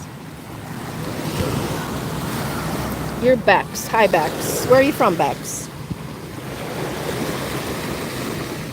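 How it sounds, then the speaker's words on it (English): Small waves wash steadily onto a Lake Geneva beach in a continuous soft surf hiss mixed with wind buffeting, while people talk briefly in the middle. "They are waves."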